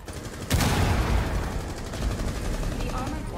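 Rapid gunfire from the tactical shooter game Rainbow Six Siege erupts with a sharp burst, then continues as a dense, loud barrage of shots and impacts throughout.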